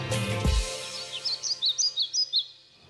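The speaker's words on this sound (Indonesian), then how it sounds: "mendengar kicauan burung di sekitar rumahnya" A single low thump, then a bird chirps in a quick series of bright, high tweets, clear and fairly close in a quiet setting.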